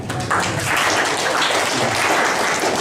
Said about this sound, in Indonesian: Oke, makasih ya, tepuk tangan